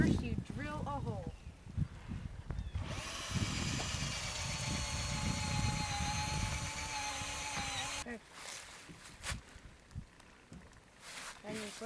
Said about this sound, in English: first you drill a hole